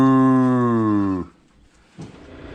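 Young buck goats bleat in one long, loud, close call that ends abruptly, followed by quieter rustling on a farm.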